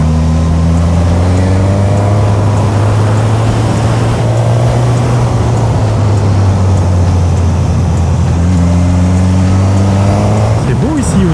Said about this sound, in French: Ah, cette moto qui a une reprise de ouf.